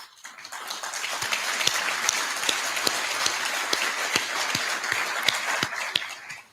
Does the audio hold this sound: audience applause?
yes